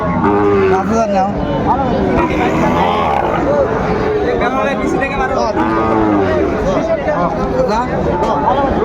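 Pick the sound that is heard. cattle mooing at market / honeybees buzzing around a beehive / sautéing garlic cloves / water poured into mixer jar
cattle mooing at market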